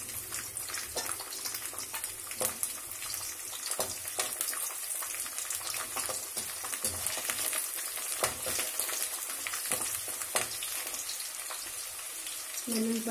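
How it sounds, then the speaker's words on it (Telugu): Chopped garlic from two large bulbs fries in hot oil for coconut fried rice, a soft, continuous sizzle with occasional light utensil clicks. "వెల్లుల్లిపాయలు వేగుతున్నాయి, ఆ మొత్తం వేగితే సరిపోతుంది."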